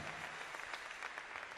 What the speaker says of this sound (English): Loud applause for Greece